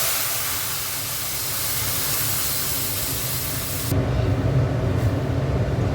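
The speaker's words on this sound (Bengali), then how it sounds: "দেখো এবার ডালটা ঢেলে দিই।" Dal poured into hot tempering oil lets out a sudden loud sizzle, a broad steamy hiss that grows rougher and louder partway through, with no talking.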